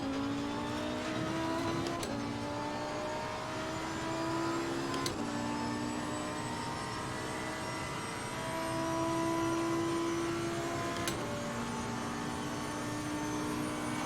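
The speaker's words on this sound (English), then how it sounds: "Hear the brakes just screaming" A race car in Assetto Corsa Competizione brakes hard, its brakes screaming with high tonal whines over a steady engine drone that dips and rises across several braking zones, with no talk.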